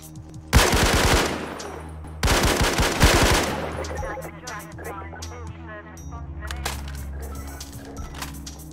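AK rifle fire in Garry's Mod, two loud rapid bursts of automatic shots close by, then quieter background game noise with squawking sounds.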